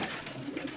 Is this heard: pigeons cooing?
yes